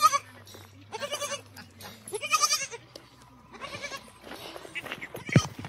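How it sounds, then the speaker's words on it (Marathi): A lost young goat bleats several times in short wavering cries on a hillside path near farmland, fairly close, with brief quiet gaps and low rustling between calls. "बकरीचं पिल्लू हरवलंय"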